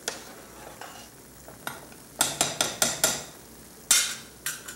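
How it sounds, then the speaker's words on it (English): A spoon stirs roux for rabbit gumbo in a pot, a series of sharp, regular scraping knocks against the metal, close and distinct, with short pauses between strokes. "And stir."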